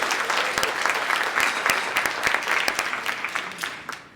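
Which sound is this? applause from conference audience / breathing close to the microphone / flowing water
applause from conference audience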